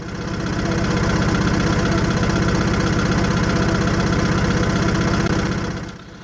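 A Tata truck's diesel engine idles with a steady low rumble and rapid pulsing chug, close and loud, then fades slightly at the end.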